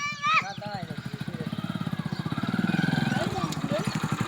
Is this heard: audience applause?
no